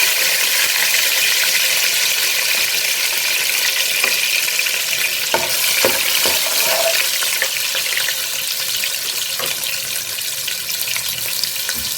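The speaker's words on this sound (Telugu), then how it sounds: "ముందుగా జీలకర్ర వేసేస్తున్నానండి ఆ తర్వాత ఉల్లిపాయలు" Cumin seeds and onions frying in oil for a Telugu dry fish and tomato curry, a loud, dense, continuous sizzle up close, with a few faint scrapes of stirring partway through and no speech.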